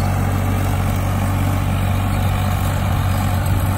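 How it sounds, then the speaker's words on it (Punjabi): A Farmtrac 60 tractor pulls a 22-disc harrow, its heavy diesel engine holding a loud, unbroken low rumble close by with no change in pace and no talk over it. "ਆਰਾਮ ਨਾਲ ਟਰੈਕਟਰ ਚੱਲਦਾ, ਬੜੇ ਆਰਾਮ ਨਾਲ ਚੱਲਦਾ ਟਰੈਕਟਰ ਨੂੰ, ਕੋਈ ਪਰਵਾਹ ਨਹੀਂ ਕਿ 22 ਤਵੀਆਂ ਮਗਰ ਚੱਲਦੀਆਂ ਪਈਆਂ ਆ।"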